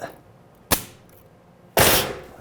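Two sharp, loud bangs from a framing nailer driving nails through framing into a wall, spaced about a second apart, the second with a longer ringing tail.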